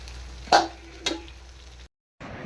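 Oil sizzles under wheat-flour and rava dosa batter on a hot pan, a steady low hiss. Two sharp clicks of utensil against pan stand out, and the sound cuts briefly to silence near the end.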